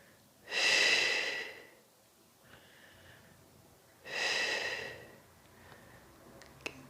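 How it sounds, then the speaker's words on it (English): Two deep, slow breaths during a stretching exercise, each a long airy exhale lasting over a second, close and clear, separated by quiet, soft inhales. "Big breaths."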